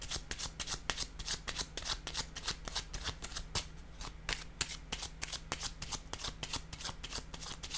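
Tarot cards being shuffled by hand, a rapid run of crisp papery riffles and slaps in an even rhythm, close and quiet, with no voice.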